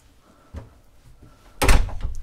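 A cabin door aboard a Bavaria C57 yacht is handled: a soft knock, then a louder thunk as it shuts, heard close up in a quiet interior.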